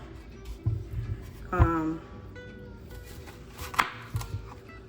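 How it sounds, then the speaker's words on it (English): A knife knocks against a cutting board in a few irregular chops, close by, with light handling noises between strikes. "I'm just chopping these in fours"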